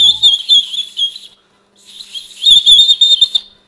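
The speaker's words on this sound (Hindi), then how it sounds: "तो एक चिड़िया की जैसी आवाज़ आ रही है गाइस इस व्हिसल में" A plastic toy whistle, a free gift from a snack pack, blown in two trilling bursts with a short gap between them, giving a warbling birdlike chirp that is high, bright and close.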